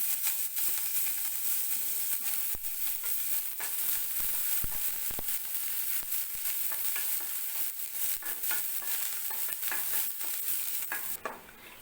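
Ingredients for kappu arisi frying in a pan, a steady close sizzle with continual stirring scrapes and clinks throughout, no talk.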